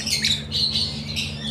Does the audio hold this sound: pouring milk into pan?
no